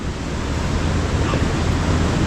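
Gentle sea waves washing on a shore, a steady broad rushing wash with some wind noise, continuous and fairly loud, with no voices.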